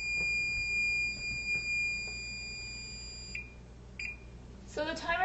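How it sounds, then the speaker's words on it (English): A timer beeps with a sustained high electronic tone that cuts off partway, then gives a short chirp, in a quiet room during a shrink plastic ring craft session, with a voice starting near the end. "So the timer's gone off again."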